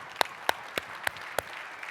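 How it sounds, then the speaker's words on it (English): A handful of sharp, evenly spaced claps ring out at an athletes' charity event, about five distinct hits in under two seconds, fairly close and isolated against a quiet room. "Please give yourself a round of applause."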